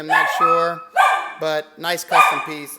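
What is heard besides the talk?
dog barking in the background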